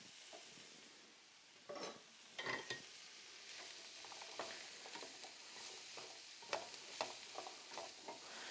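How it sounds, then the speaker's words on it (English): Apples and onions sauté in a pan with a steady soft sizzle, and a utensil stirs and scrapes through them in scattered clicks and rustles. No one speaks. "we're going to throw the apples in the pan"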